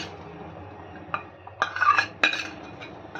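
Soaked sago being stirred into half-cooked rice in a metal pot, a few scattered spoon scrapes and clinks against the pot, close and moderately loud, with no talking.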